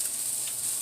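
Onions sizzling softly in a frying pan, a faint, steady crackle close by with no talking.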